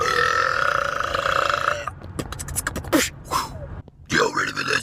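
Several loud burps in a row, a long droning belch followed by shorter choppy ones with brief gaps, close up and alone.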